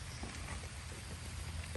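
Rain falls steadily in a palm plantation, a soft, even hiss of drops with faint scattered patters and no voices.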